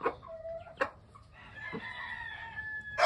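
Pakistani Asil chickens cluck and crow nearby, with a couple of sharp calls followed by a drawn-out rooster crow.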